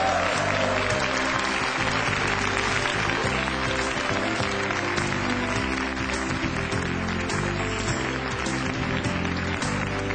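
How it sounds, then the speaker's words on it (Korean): Big, sustained applause from a lecture hall audience thanking a CEO speaker at the close of a televised talk, loud continuous clapping with a low hum underneath, filling the whole stretch. "수고해주신 김종갑 대표님께 큰 박수를 부탁드리겠습니다"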